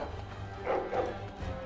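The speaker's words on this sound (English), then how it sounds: "Of all the ways to die, I wasn't expecting a pack of dogs." A pack of hostile dogs in Dragon Age: Origins bark and yip in a short, moderately loud burst of two or three yelps over a steady game background hum.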